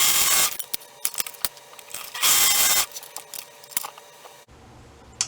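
A sewing machine stitching slippery swimsuit fabric for kids' bottoms runs in short loud whirring bursts separated by pauses and sharp clicks, close up, with no talking.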